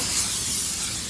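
A steam cleaner sprays a continuous jet of hissing steam into a corner while a car is detailed, a close, bright, airy rush that holds steady for about a second.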